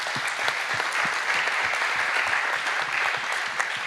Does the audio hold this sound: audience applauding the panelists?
yes